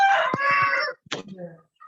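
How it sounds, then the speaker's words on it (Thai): A domestic rooster crows loudly and close by in one long, ragged call, then a few shorter clucking notes follow. "ไก่เธอมันต้องขันบ่อยอย่าง"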